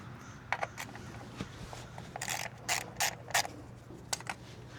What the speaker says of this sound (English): So now we're going ahead and remove all those 8mm bolts that are holding down the coil packs.